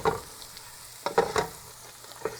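A short pan sauté with turmeric and black pepper for Persian turnip soup. A light sizzle sits under a few quick scraping stirs that come in bursts at the start and middle.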